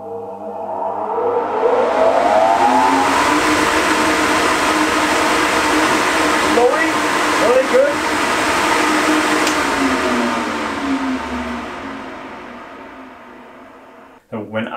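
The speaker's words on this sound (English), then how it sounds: "First of all, this exhaust fan here." A laser cutter's exhaust fan, part of a setup for making cockpit panels, runs with a loud, steady broadband whoosh for most of the stretch, then winds down and cuts off near the end.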